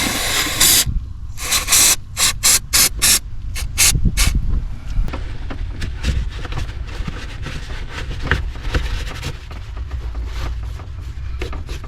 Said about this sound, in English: Now just time to protect the terminals with some white grease.